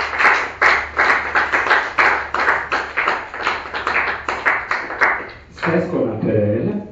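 Congregation in a church clapping together in a steady rhythmic beat, loud and close, with singing voices joining toward the end.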